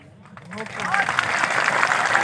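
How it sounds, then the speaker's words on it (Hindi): An audience at a farmers' panchayat meeting in Rasulpur breaks into applause that swells from scattered claps into steady, dense clapping, with voices talking over the start of it. "छोड़ो ये ताली वाली बहुत बजा ली"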